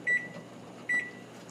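Two short, high, clear electronic beeps sound about a second apart, close and distinct over low room hum, from a kitchen timer while rice cooks.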